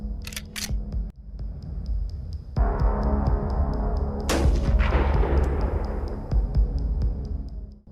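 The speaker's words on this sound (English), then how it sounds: "He opens fire on the target, quietly aiming at the soldier of Ukraine." A sniper rifle fired by a Russian sniper at a Ukrainian soldier: a couple of sharp cracks early, then a single loud, close blast midway that trails off into a rumbling, noisy background.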